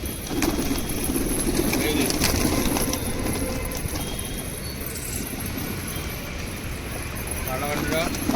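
Pigeons coo softly among crowd noise and people talking nearby in bad weather, with scattered rustling and clattering sounds throughout.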